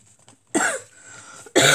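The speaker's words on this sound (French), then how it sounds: "Je tousse, excusez-moi." Two sharp coughs, close by, separated by a short pause with a faint throat noise between them.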